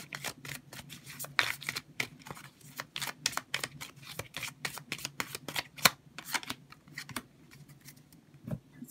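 A deck of oracle cards is shuffled in a rapid run of crisp riffling snaps and flutters, close and fairly quiet, with no speech.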